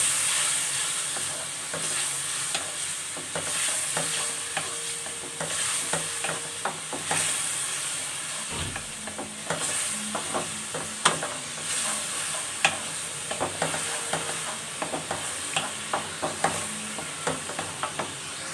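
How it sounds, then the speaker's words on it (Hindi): Garlic-ginger paste being sautéed with fried onions in a pan for pea pulao: steady sizzling and frying hiss with repeated spoon scraping and stirring clicks, close and continuous, no talk. "अब मैं इसमें लहसुन अदरक का पेस्ट ऐड कर रही हूँ, और लहसुन अदरक को भी हम इसमें 5 मिनट सौते करेंगे"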